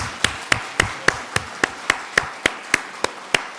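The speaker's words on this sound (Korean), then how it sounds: "우리 한번 성가대 위해서 다 같이 한번 박수 한번." Church revival congregation clapping for the choir: about a dozen sharp, evenly spaced claps in a steady rhythm, close and fairly loud, with no talking over them.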